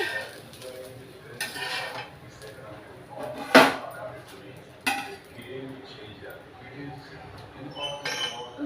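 Ragi dosa made with green gram is lifted off a pan onto a plate, giving a few sharp utensil clinks and scrapes at moderate distance, with soft background talk between them.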